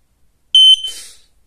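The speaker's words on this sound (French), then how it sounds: "Ça fait un bon bip bien strident." One piercing, shrill beep from an interconnected smoke detector during a test, loud and close, stopping abruptly with a brief clatter after it.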